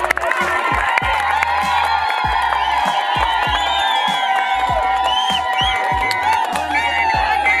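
A school crowd breaks into applause and cheering at a community event, a busy mix of clapping, whoops and children shouting, loud and sustained across the whole stretch.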